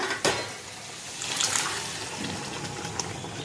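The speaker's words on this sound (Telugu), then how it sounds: "నీళ్ళతో సహా పోసిన చూసారు కదా" Boiled chana dal is poured together with its cooking water into a pan for an ash gourd curry, a steady close splashing pour that swells after the first second and then runs on evenly.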